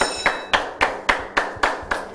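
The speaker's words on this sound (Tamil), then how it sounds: "இந்த கைதட்டு எதுக்குன்னு தெரியுமா?" Slow, deliberate hand claps ring out close by, eight or nine evenly spaced sharp claps about a quarter second apart, with no talking over them.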